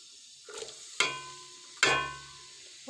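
Chopped onions go into lightly heated oil in a cooking pot. Each drop gives a soft sizzle, followed by a couple of sharper stirring clatters, all fairly quiet and close.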